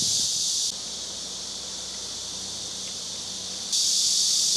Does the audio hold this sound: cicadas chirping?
yes